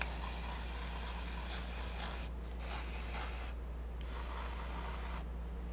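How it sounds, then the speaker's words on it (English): An aerosol can of nail polish drying spray hisses in a steady close spray, with a few brief pauses between bursts. "So I shook it, and now I'm just going to spray."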